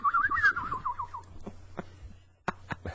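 A cartoon-style bird-tweeting effect: a quick warbling run of high chirps, followed by a few sharp, isolated clicks and pops against a faint low hum.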